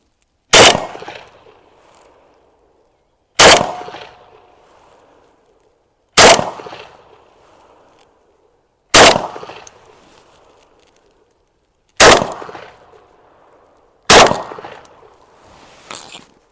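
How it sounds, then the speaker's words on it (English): Beretta 1301 Mod 2 shotgun firing slugs at a range: six loud, sharp blasts spaced about three seconds apart, each with a short decaying echo, and no talking. "Okay, these are the first shots. We have some slugs loaded up"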